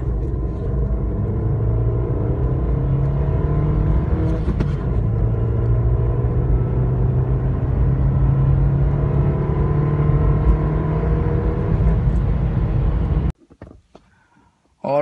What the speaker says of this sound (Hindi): अभी देखते हैं 0 to 100 हमारी कार जो है कितने टाइम में कवर करती है। So here we go for 0 to 100।